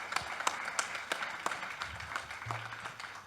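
Faint, steady rhythmic clapping from a distant crowd at a Spanish-language talk on C++ in the video game industry, regular claps repeating about three times a second with low room murmur underneath.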